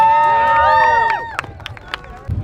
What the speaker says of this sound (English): everyone give a big round of applause for the women's class